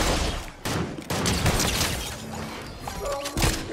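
Bursts of gunfire in a Fortnite match, loud and dense with crashing, clattering game effects layered over one another, brief gaps between volleys and a steady busy din throughout.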